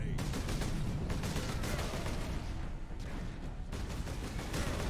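Continuous video game gunfire from a Space Marine battle against orcs, rounds shot through a wall, a dense unbroken rattle of rapid shots with a brief dip midway, fairly quiet overall.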